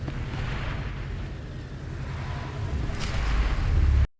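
Bombs exploding in the video game Star Wars: The Old Republic, a continuous low rumbling blast that swells with a brief burst near the end before cutting off abruptly.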